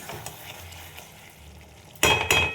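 Chicken curry with cream being stirred in a pan: a low, steady sizzle gives way to two loud, close bursts of frying hiss as the pan is worked.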